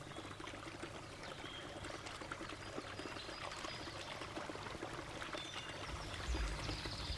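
River water diverted into a small stone dam, rushing and pouring in a steady, dense wash of sound that swells slightly toward the end, with no voices.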